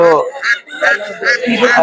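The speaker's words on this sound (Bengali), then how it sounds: "আমরা হাঁস মুরগি দেখবো" Chickens and ducks at a rural poultry market make loud, close, overlapping clucks and squawks in quick bursts, with no talk over them.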